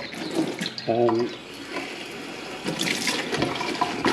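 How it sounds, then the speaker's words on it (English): Tap water runs into an aquarium water container, a steady splashing flow that continues alongside other handling noises and a brief tonal sound, with a person speaking nearby. "And you just want to fill it up with tap water, really, up to a certain level."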